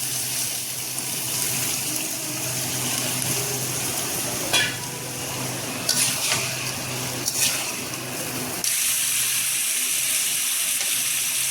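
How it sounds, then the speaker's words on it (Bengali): Pointed gourd and prawns sautéing in a pan with a steady sizzle and occasional sharp scraping stirs, loud and close, ending in a brighter, hissing fry. "পটলটাও ভালোভাবে কষানো হয়ে গেল"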